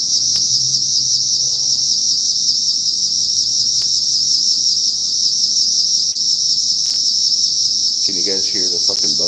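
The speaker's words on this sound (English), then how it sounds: "cicadas drive me nuts every goddamn fucking year" A steady, loud drone of cicadas buzzes without pause throughout, a dense shrill chorus, with a brief bird-like chirping near the end.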